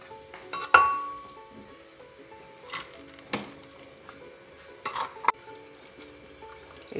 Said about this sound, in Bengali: এইভাবে সব ঢেলে দিতে হবে কুকারে।